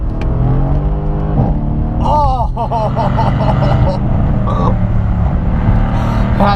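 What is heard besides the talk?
Mercedes C63 AMG S exhaust accelerating at full throttle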